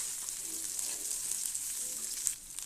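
Cumin, fennel and asafoetida tempering frying in hot oil for a banana stem kootu, a soft, even sizzle heard up close, fairly quiet with no voices.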